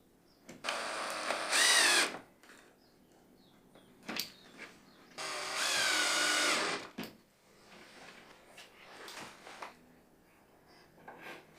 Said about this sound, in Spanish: perforé un agujero del tamaño de la varilla en 2 pequeños bloques de madera